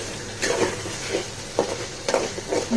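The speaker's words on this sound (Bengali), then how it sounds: "এখন আমি এই পর্যায়ে কেটে রাখা টমেটোগুলোকে দিয়ে দেবো। টমেটোগুলোকেও আমি এখন মশলার সাথে আরো 5 মিনিট কষিয়ে নেব।" Chopped tomatoes frying with spices in a pan for fish bhuna, a soft steady sizzle broken by several light scraping stirs.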